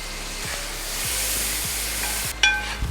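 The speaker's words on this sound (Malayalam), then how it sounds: "നമുക്ക് കുറച്ച് അതിനകത്തിട്ട് വെള്ളം ഒഴിച്ച് മിക്സി കഴിയ വെള്ളം നമ്മുടെ അടുത്തിരിപ്പുണ്ട്, നമുക്ക് ഒഴിക്കാം." Masala frying in a pan for chicken vindaloo gives a steady, close sizzle with a few stirring scrapes. Near the end, water is poured in and the hiss suddenly swells, then settles.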